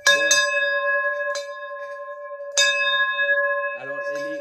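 A bell rings with a clear, sustained tone, struck several times with a long ring between strikes. A voice speaks briefly at the start and again near the end.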